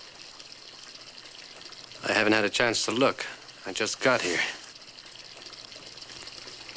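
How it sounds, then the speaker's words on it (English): Water runs from a tap somewhere indoors as a steady, faint hiss that continues beneath a man's brief spoken lines. "I hear water running somewhere."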